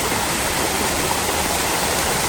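Water pouring down a side drainage near Mark Branch Falls in McCreary County, Kentucky, a steady, dense, loud rush that stays unbroken throughout.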